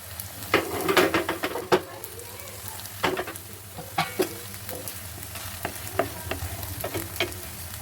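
A crisp protein-rich breakfast snack fries in oil on a pan, with a gentle sizzle under a low hum and irregular sharp scrapes and taps of a spatula against the pan.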